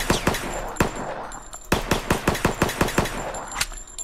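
Rapid gunfire in the zombie video game Apocalypse: The Game, a loud, close string of sharp shots in quick bursts with short gaps between volleys.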